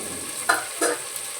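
Fenugreek leaves fry in hot oil for a fenugreek rice dish, a steady quiet sizzle broken by two short scraping stirs of a spatula in the pan.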